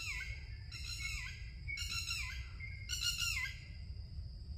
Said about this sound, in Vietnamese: gấp đây có chim đang gáy này